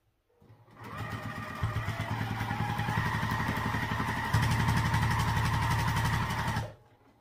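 A sewing machine stitches the side seams of a fabric sling in one continuous run of rapid, even needle pulses, close and loud, starting and stopping cleanly with no talking.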